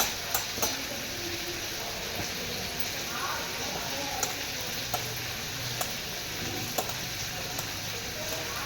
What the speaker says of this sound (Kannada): ಇವಾಗ ಫ್ರೈ ಮಾಡೋಕ್ಕೆ ಕಡಾಯಲ್ಲಿ ಹಾಕಿ ಒಂದು 5 ನಿಮಿಷ ಫ್ರೈ ಆಗಬೇಕು